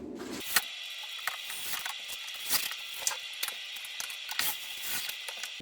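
Rapid clicking of a ratchet driving screws while a soundproof operable picture-over-slider window is secured, a close, steady run of sharp pawl ticks with short pauses and no talking.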